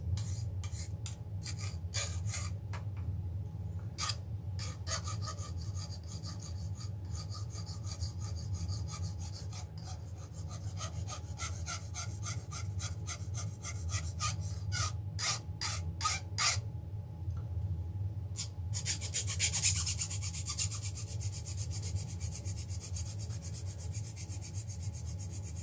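A file rasps in short repeated strokes across a soldered end of model railroad rail, cutting it off. The close scraping comes in quick bursts with brief pauses between them.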